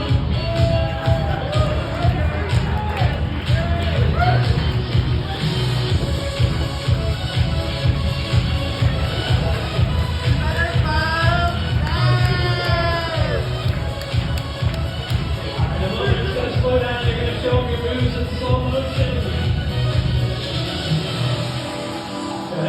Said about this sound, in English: Go ahead, audience. You can cheer them on.